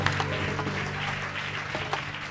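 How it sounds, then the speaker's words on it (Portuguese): A congregation at a church service claps together, a dense steady round of applause with scattered sharper claps, held at an even level throughout and with no voices on top. "Dá um aplauso ao Senhor"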